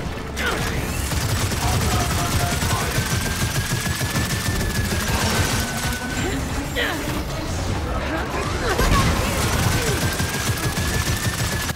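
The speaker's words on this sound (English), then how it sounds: "I have like the big heavy machine gun that they were carrying." A heavy machine gun in Gears of War 4 fires in a dense, sustained burst that carries through the whole stretch, mixed with other game noise and voices talking over it.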